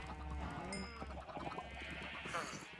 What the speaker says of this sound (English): We can always breed sheep, because they're really easy to breed.